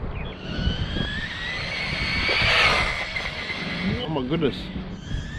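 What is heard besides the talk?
JJRC SCT RC short course truck driving at full speed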